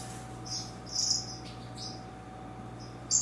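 Purple grenadier finches in an aviary give a few short, high chirps over a quiet, steady hum, with the calls faint and spaced out.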